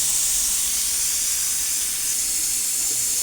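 A pressure cooker on the stove cooking rice gives off a steady, loud hiss of escaping steam, continuous and unbroken, heard alone with no talking.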